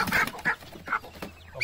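A live chicken clucks and squawks in short bursts, up close, with a few agitated calls spread across a brief moment just before slaughter.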